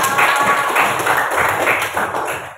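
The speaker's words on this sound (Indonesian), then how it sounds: "tepuk tangan untuk kelompok" Applause from a classroom audience for a student group, a steady patter of hand claps holding fairly loud and close for the whole stretch before tapering slightly at the end.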